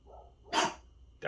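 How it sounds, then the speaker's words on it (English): A dog gives two loud, close barks about half a second apart, with brief quiet between them. "Elway, just because Kobe barks doesn't mean you bark"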